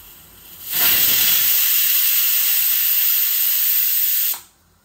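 A pressure cooker cooking chicken lets out one loud, sustained hiss of steam lasting several seconds, then cuts off abruptly.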